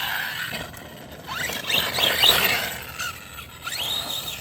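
A rough, scraping mechanical whir with high squealing whines that rise and fall in short bursts, close by and moderately loud, from a loose pinion gear on a radio-controlled car.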